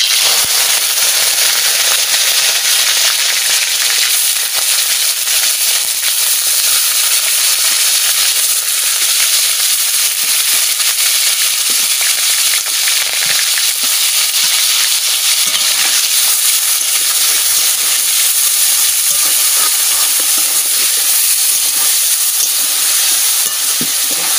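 Continuous loud sizzling and hissing of paneer pieces frying in hot oil, steady throughout with occasional small pops.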